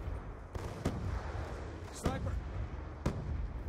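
War Machine grenade launcher blasts in Black Ops 2 hit as several sharp, spaced explosive thuds, moderately loud, while players chat over them.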